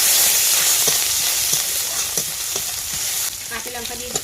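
Bay leaf, five-spice seeds, chopped onion and garlic fry in hot oil in a wok, a loud continuous sizzle and hiss with stirring scrapes and clinks growing more distinct toward the end, no voices.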